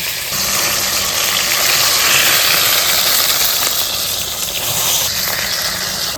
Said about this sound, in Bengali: এই মাছটা আমি একটু হালকা ভেজে নিচ্ছি